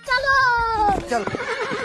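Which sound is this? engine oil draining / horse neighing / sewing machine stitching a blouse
horse neighing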